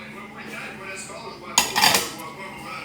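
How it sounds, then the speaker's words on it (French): Dishes being washed by hand at a kitchen sink, with a brief burst of pots and cutlery clattering together midway through, loud and close against a quieter background. "Parce que là, je suis à ma vaisselle."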